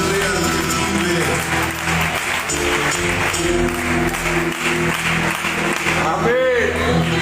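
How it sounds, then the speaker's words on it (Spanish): A church congregation applauds the Lord during a worship service, sustained dense clapping blended with loud voices and music throughout. "Aleluya, apláudele al que vive."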